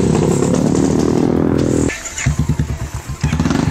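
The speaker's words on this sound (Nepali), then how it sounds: "यसरी सहर नै आतंकित हुने आवाज निकालेर मोटरसाइकल दौडाउँदा" A motorcycle fitted with a modified loud silencer revs hard in a city, first as a steady, loud, continuous roar, then as a run of choppy, pulsing bursts.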